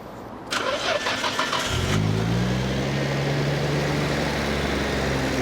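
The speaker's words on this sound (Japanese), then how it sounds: "エンジンかけますね。" Nissan GT-R with an RB26DETT engine, stock internals, Blitz intake and aftermarket muffler, cranks briefly and fires, then settles into a steady, loud, deep idle burble close by.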